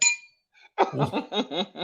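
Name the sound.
glass being clinked as a bell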